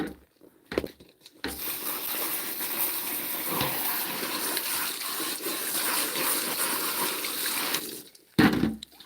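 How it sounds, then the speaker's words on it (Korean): Shower head spraying water over shepherd's purse greens to wash them, a steady rushing gush that runs unbroken for several seconds, loud and close, with a short break near the start and a clatter at the end. "한 번씩 이렇게 샤워기가 있어서 너무 좋아요"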